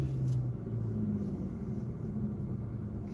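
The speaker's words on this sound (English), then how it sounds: "That chirping sound, his car's coming by." A car rolls past on the road with a low, steady engine rumble, moderately loud and continuous, with no voices.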